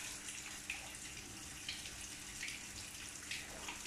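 Tap water runs steadily in a kitchen sink, rinsing canned mushrooms; the stream is faint and continuous with small splashy flickers, and no voices.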